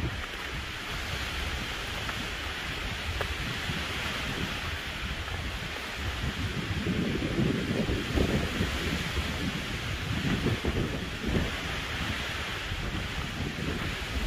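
Strong wind roars across an open, snowy mountain top on Roan Mountain, a continuous broadband rush with gusty swells that build louder midway, buffeting the microphone, no voices.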